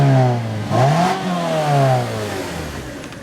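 A 2014 Mazda3 with the 2.5L engine revs loudly up to its limiter, the pitch climbing, dipping and rising again in a couple of sharp sweeps before settling back toward idle.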